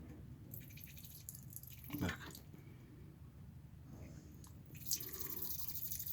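Water drips and splashes from the air valve of a combi boiler expansion tank with a punctured membrane, a faint wet spurt standing out twice over a low steady background hum.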